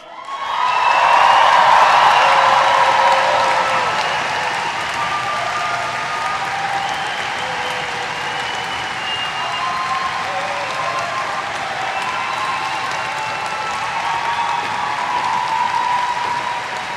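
A university graduation audience at a summer ceremony in Dundee bursts into loud sustained applause with cheering and whoops, swelling at first, then holding steady for the whole stretch.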